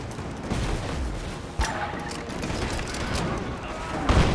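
Gunfire in the video game Rise of the Tomb Raider, a couple of sharp shots over a dense noisy game soundscape, one near the middle and another close to the end.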